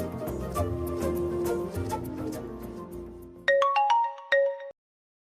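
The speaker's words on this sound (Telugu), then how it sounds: "అన్నయ్యకి ఫోన్ చేస్తాను" An outgoing phone call rings out as a bright electronic ringtone of repeated beeping tones, loud and close, following a stretch of background music and cutting off abruptly.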